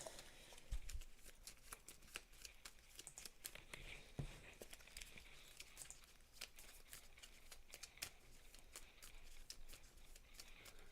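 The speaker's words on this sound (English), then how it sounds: "I'm just going to do a quick shuffle of these decks from last night" Gloomhaven: Jaws of the Lion card decks are shuffled by hand on a table, a quiet close run of riffling and flicking bursts in quick repeated patters, with no talking.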